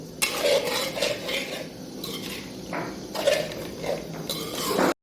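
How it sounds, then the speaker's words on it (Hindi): Potatoes stir-fried in a pan for a spicy tangy aloo dish, with a spoon scraping and clinking against the metal in repeated bursts, nearby and moderately loud, with no talking. "इस तरीके से आलू को इस तरह से भूनेंगे इसमें"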